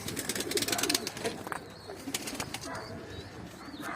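Pigeons cooing and flapping their wings inside a coop, a busy mix of close wingbeats and soft coos with some faint background chatter from the flock.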